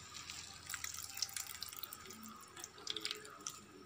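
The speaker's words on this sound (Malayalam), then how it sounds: "അപ്പം ഞാൻ ചെയ്യുന്നത് ഈ വെള്ളം അങ്ങോട്ട് പിഴിഞ്ഞെടുക്കുകയാണ്." Water is squeezed out of grated watermelon rind in a kitchen, giving a steady trickle and splash of liquid with small drips, close and moderately loud, with no talk.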